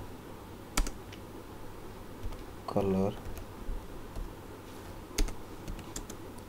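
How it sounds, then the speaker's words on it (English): Keys click sparsely on a computer keyboard as someone types in a notepad, with faint separate taps and a few sharper strikes under a brief spoken word. "Then just type the following thing"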